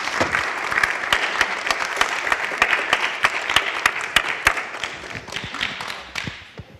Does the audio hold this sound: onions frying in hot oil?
no